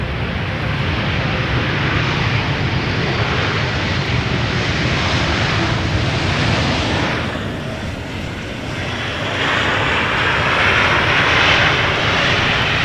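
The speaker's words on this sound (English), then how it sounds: "JetBlue arriving from Boston, Massachusetts, going to the wrong runway" A three-year-old JetBlue jet airliner arriving at Amsterdam Schiphol from Boston, a steady loud roar of engines that dips briefly midway and then swells again, with no talk.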